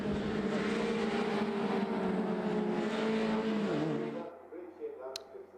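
Mini Cooper race cars from the Scottish MINI Cooper Cup, 2019 season, drone steadily through a chicane, engines blending into a loud sustained roar that cuts off suddenly near the end, with a commentator talking over them.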